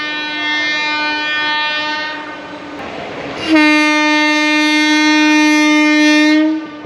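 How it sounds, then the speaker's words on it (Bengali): The LTT–Ernakulam Duronto Express sounds its horn as it arrives at the station, one long loud blast, a short pause, then a second sustained blast that cuts off sharply near the end, with no voices. "এটাই হলো train number one two two two three Ernakulam দুরন্ত এক্সপ্রেস"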